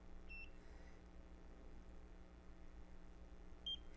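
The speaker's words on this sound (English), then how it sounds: "You'll hear the beep." Two short electronic beeps from a NIRA Pro at-home skin laser, one near the start and one near the end, faint against a steady low hum, with no talking.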